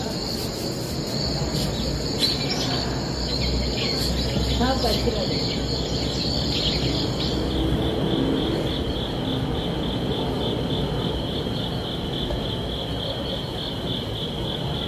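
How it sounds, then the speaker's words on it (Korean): Recorded nature sound of crickets played back at an outdoor climate justice rally in Busan, with steady high-pitched chirping trills and faint birdsong in the background, and someone speaking briefly. "그리고 이제 가을이 왔다는 생각에 귀뚜라미 소리까지"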